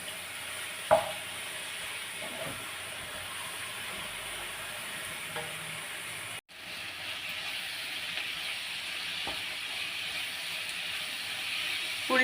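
Onion, tomato and coriander powder sautéing in a pan, a steady hissing sizzle with a few spatula taps, interrupted by a brief cut midway, no speech.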